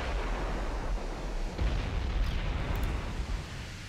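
Battleship 15-inch guns firing in the naval game Ultimate Admiral Dreadnoughts, a heavy deep rumble of distant artillery blasts rolling through a steady low roar.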